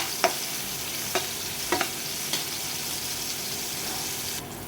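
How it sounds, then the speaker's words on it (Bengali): Bitter gourd fries gently in a pan, a soft even sizzle broken by four sharp utensil taps spaced about a second apart, quiet and close with no talking. "এখন উচ্ছেটা সামান্য একটু ভেজে নেবো"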